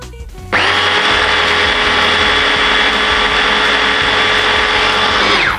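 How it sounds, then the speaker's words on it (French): A blender purées cooked white beans with their cooking water into a smooth spread. Its motor kicks in sharply and holds a loud, steady, high-pitched whir for about five seconds before cutting off. "il faut quand même un peu mixer pour avoir quelque chose de très fin et qui se tienne bien"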